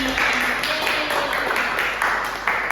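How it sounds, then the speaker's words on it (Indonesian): Classroom of students clapping for a classmate, a steady broadband patter of many hands sustained throughout, moderately loud and close. "Tepuk tangan tuh buat Ajmi"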